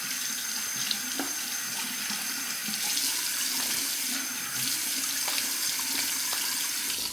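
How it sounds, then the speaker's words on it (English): Warm water runs steadily from a tap into a sink, a close, continuous broadband rush with slight shifts in flow and occasional clinks, alone without talk. "Warm water rinse."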